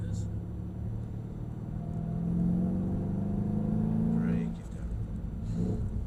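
A Mercedes-AMG E63 drives around the course at Mercedes-Benz World, Brooklands, its engine rumbling and swelling as it accelerates, then easing off, heard from inside under a driver and instructor talking.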